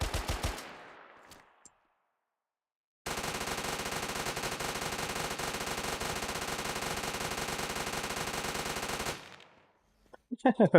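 A machine gun with infinite ammo in a video game fires a long, unbroken burst of rapid shots lasting about six seconds, loud and close, bracketed by a few separate shots and short gaps of silence.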